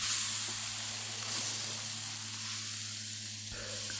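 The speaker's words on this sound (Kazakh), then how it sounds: "Осындай шыжғырылған дауыс шығады." Sheep-tail fat sizzles steadily in a hot kazan while dymlyama is prepared, a continuous close, even hiss of frying fat with no talk over it.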